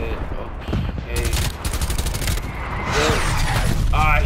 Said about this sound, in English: He trying to shoot through there.